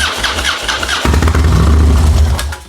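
A 2016 Harley-Davidson Road Glide with an aggressive cam and loud aftermarket pipe cranks over and fires up close by, settling into a deep, lumpy rumbling idle.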